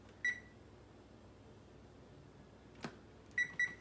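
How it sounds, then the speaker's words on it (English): A kitchen timer being set for a baking cake: a single sharp electronic beep, a quiet gap, a soft click, then two quick beeps close together, near and clear in a quiet kitchen. "Let me set my timer."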